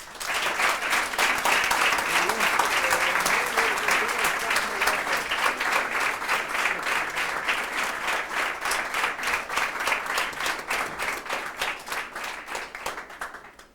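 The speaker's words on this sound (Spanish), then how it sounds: "Lo recibimos con un fuerte aplauso." A church congregation applauding to welcome a speaker, loud sustained clapping from a full room that rises quickly, holds for over ten seconds with a crisp, dense texture, then gradually thins and fades.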